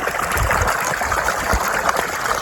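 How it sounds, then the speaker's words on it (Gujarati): Irrigation water flowing into a cumin field, a close, loud and continuous gushing, splashing stream with no voices. "તો મિત્રો, આપણે પાણી ચાલુ કરી દીધું છે."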